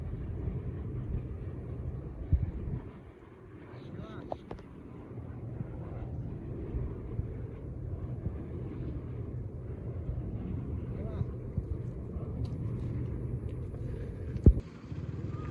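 Continuous low rumbling whoosh of a large electric fan, like an airplane engine, steady throughout with a brief dip and occasional clicks.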